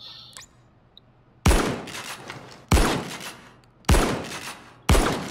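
Shotgun blasts in the heist shooter PayDay 2, four heavy booming shots spaced roughly a second apart, each with a sharp attack and a trailing decay, loud and close with no voices.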